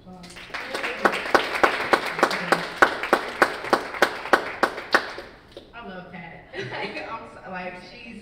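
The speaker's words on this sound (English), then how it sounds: "Another round of applause." About fifteen sharp claps land in a steady, even rhythm, like a group clapping in unison, then the clapping stops and voices talk.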